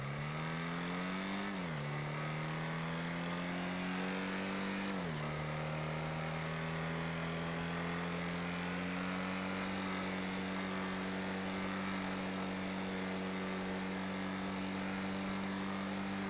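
Emperor Vectre car engine in GTA 5 Online under full throttle, a steady droning hum that climbs in pitch, drops briefly at two gear shifts, then holds a constant high note at speed.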